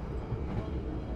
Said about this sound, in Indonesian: kereta api Kertanegara saat ini bakal terus meningkatkan kecepatannya sampai batas maksimal